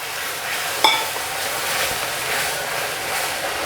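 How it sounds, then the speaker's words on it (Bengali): A little water is added to darkening caramelizing sugar syrup in a pan, producing a soft, steady hissing sizzle with one brief metallic clink early on, fairly faint and without voices. "এবার আমি এর মধ্যে খুব সামান্য পরিমাণে একটু জল দিয়ে দেব।"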